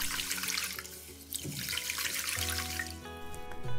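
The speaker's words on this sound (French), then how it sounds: "on dépose le riz dans un grand bol ou un saladier et on le rince" Jasmine rice being rinsed with water in a large bowl, with running tap water and sloshing, swirling liquid close by, steady throughout without talk.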